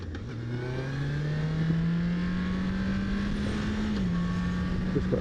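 Yamaha R1 sportbike engine revving with a slipping clutch: a steady near engine drone whose pitch climbs slowly and smoothly, then dips briefly and holds, with no speech.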